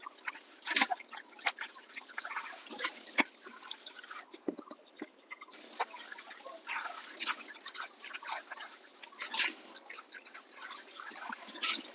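Soaked chunks are squeezed and rinsed by hand in a bowl of water, giving close, irregular sloshing, dripping and splashes with a brief quieter pause midway.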